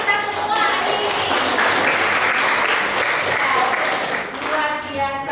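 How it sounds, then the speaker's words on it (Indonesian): A junior high classroom full of people clapping together in sustained, loud applause for several seconds, with a few voices mixed in. "Tepuk tangan untuk kita semua hari ini."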